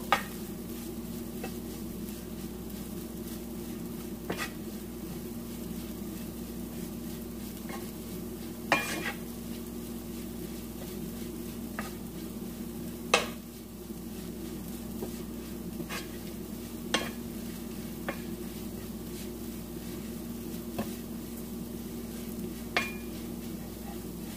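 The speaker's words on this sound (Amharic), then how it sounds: "አሁን የፈረፈርኩትን ዳቦ እጨምረዋለሁ እና ትንሽ ነው ሞቅ ማደርገው" Soft steady sizzling as crumbled bread warms in hot clarified butter, with occasional light clicks and scrapes of a utensil stirring; no voices.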